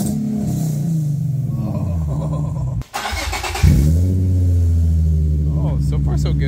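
A project car's engine runs just after an exhaust repair, idling with a deep, close rumble that cuts out briefly, then restarts and settles into a steady, throaty idle with small revving swells.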